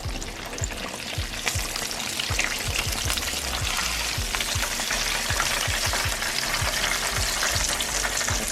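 Pork chops frying in a pan for mustard fried pork chops, a steady dense sizzle and crackle with repeated sharp spatter pops throughout, close and fairly loud with no talking.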